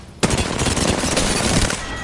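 Sustained rapid automatic gunfire in the video game Apex Legends, dense and loud, starting suddenly after a brief quiet moment and rattling on continuously.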